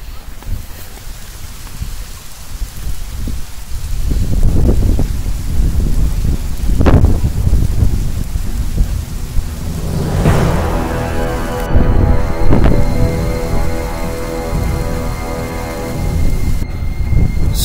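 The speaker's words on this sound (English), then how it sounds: "Oh great, it's starting to rain." Rain begins outdoors with a steady wash of rain and wind, deep rumbles of thunder rolling through and a loud crack midway, all continuous and close.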